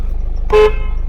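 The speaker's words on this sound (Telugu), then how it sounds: "హార్న్ కూడా పర్ఫెక్ట్లీ వర్కింగ్ కండిషన్" A single short horn toot from a 2015 Ford EcoSport Titanium, loud and close, sounding briefly over a low background hum.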